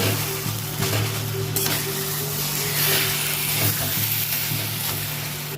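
Jaggery melting in a wok over a gas stove gives a steady close bubbling sizzle with some stirring noises, set against a constant low hum from the burner, no speech.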